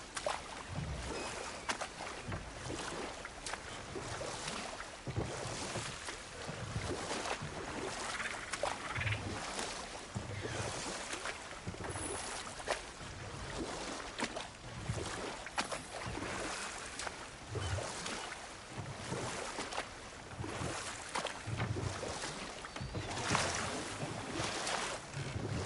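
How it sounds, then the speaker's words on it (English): Waterfalls in God of War Ragnarok give a continuous, broad rushing roar of falling water that stays steady and full throughout, with no voices. "Waterfalls. We're close."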